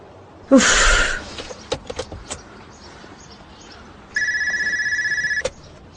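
An electronic telephone ring: a sustained steady trill of tones for about a second, preceded by a brief burst of noise and scattered clicks in a quiet room.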